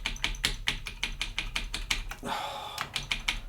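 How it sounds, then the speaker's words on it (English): Rapid, irregular clacking of keys being typed on an Atari 800XL keyboard during its self-test. The clacks are close and crisp, with a short hissy burst in the middle before the keystrokes resume. "we'll go in the keyboard self-test. Right, okay, so typing away"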